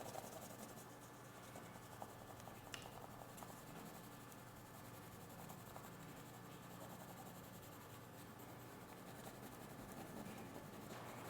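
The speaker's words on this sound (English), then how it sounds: "So like this you trace on a paper." A pencil rubs back and forth over a coin laid under paper, making a very faint, continuous scratchy graphite texture with no clear pauses.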